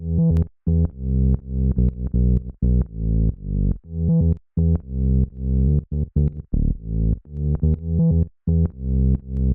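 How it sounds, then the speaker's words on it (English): A punchy, driving synth bass plays a choppy, syncopated line with frequent jumps between low and high octaves, loud and alone. "moving on to the next element, which is a funky bass line"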